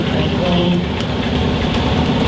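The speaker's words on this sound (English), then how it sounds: "It's great to see these local tractors get out and show them here today." Vintage tractors, including a 1957 model 450, rolling past in a Summerfest parade of power, with a steady, loud engine drone and rumble throughout and people talking faintly underneath.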